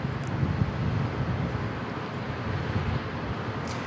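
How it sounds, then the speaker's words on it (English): An Airbus A321neo taking off at San Diego International Airport gives a steady, dense roar of engine noise, loud and continuous throughout with some wind noise. "We're going off to Denver on this A321neo that is taking off."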